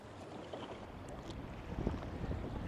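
Gusty wind buffets a fishing boat out on open water, a soft rushing roar that slowly builds in strength, with no voices present.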